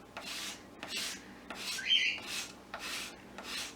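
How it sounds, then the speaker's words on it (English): Chalk-painted wood is sanded by hand to give it a distressed, weathered look. Repeated rhythmic rasping strokes come close and quiet, each one a short gritty rub, with no talking. "as you're sanding."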